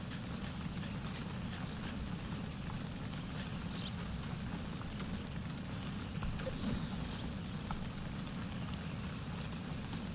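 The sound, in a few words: rain in video game Viva Piñata: Pocket Paradise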